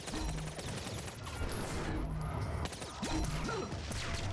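Gunfire in a fast arena shooter video game with hit-scan weapons, a busy spread of shots and impacts heard as continuous dense bursts at steady loudness over several seconds, with no talk.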